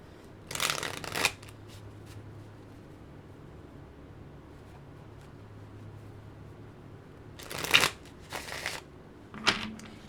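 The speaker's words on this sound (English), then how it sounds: "I feel like I just need a good shuffle." Playing cards shuffled in short bursts during a tarot reading, three riffling flurries near the start and toward the end with quiet pauses between, fairly close and clear.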